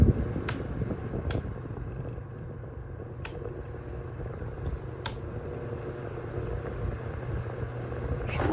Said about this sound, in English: This is the HT900C series of Honeywell, these turbo fans.